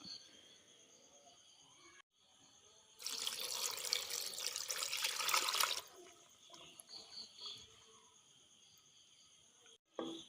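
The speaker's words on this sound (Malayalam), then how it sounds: "ഇതിലിനി ഒരു കപ്പ് വെള്ളം ഇതിലോട്ട് ഒഴിച്ച് കുക്കറിനകത്ത് ഒഴിച്ചു കൊടുക്കാം" Water is poured from a cup into a pressure cooker holding beef for a Kannur-style curry, a soft splashing rush lasting a few seconds under a faint background hum, with quiet room sounds on either side.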